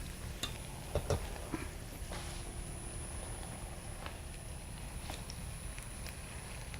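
Soaked sago is stirred into a cooking cassava root mixture in a pot, soft scraping strokes and a few faint clinks over a low sizzle, quiet and close.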